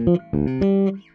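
A short bass guitar fill of a few plucked low notes, open D, a hammer-on to G, then D, quick and clean, the last one held briefly before fading.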